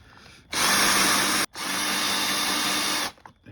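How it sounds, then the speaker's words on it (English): An old, blunt power drill runs in two bursts, about a second and then about 1.5 seconds, with a brief stop between them, loud and close while working on a BMW X3/X4 door handle interior trim. "this old drill from my work kit is quite blunt"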